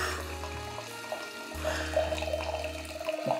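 Wine streams from a button-operated dispenser gadget into a glass, a steady liquid gurgle and trickle that runs for a few seconds at close range with no talking.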